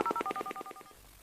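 A telephone number is punched in as a quick run of about nine DTMF keypad tones, short evenly spaced beeps heard alone and fairly close.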